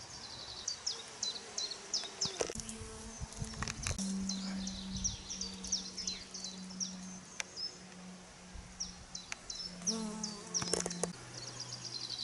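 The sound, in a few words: honey bees buzzing around flowering brambles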